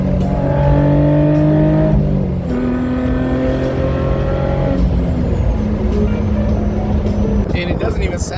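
Roadster engine with an X-pipe exhaust revving and accelerating through several gear pulls, a loud rising drone heard from inside the car, with people talking over it.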